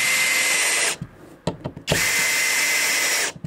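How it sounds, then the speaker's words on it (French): A power drill drives screws into a wooden batten inside a van, with two long, loud, steady motor whines separated by a short pause with a few clicks and knocks. "je vais venir visser ça"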